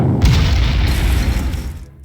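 A fighter bomber attack in the strategy game Panzer Corps lands as a loud, deep explosion with a heavy booming rumble that swells and then fades out, with no talk over it.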